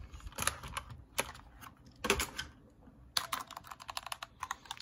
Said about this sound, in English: Here we got the Razer Huntsman Mini with the Razer Red switches.